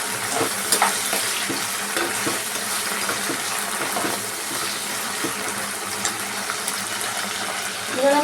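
Chopped tomatoes hitting hot oil in a pan for an Indian salmon fish curry, a loud busy sizzle with crackling pops and occasional stirring clinks, continuing steadily throughout.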